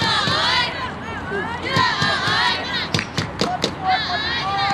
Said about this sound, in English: beating on ball bands, making it sound like drums